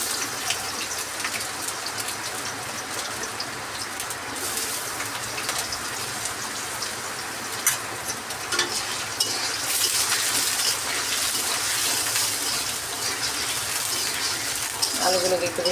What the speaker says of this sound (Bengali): এখন ছোট করে রাখা আলুগুলোকে দিয়ে দিলাম তেলের মধ্যে